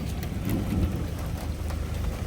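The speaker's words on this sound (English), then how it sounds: "It's raining out here." Steady rain falls outdoors, a constant hiss with a low rumbling undertone, no voices.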